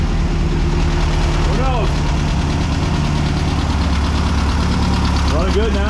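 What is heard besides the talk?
1600cc VW dune buggy engine idling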